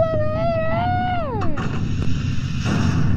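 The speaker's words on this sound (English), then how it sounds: "That's a missile" A missile launching and exploding in the horror game SCP Containment Breach: a descending whistling tone sweeps down over a second and a half, then a heavy rumbling blast that rolls on under sustained low noise.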